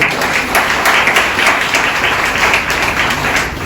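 A church congregation claps loudly during a pastor's sermon, a thick, sustained burst of many hands close by that fades slightly toward the end.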